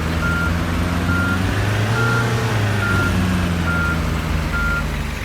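A tour coach reversing beeper in Tourist Bus Simulator repeats steady evenly spaced beeps over a low idling engine rumble.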